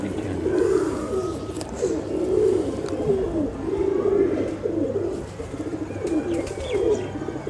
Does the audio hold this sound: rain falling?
no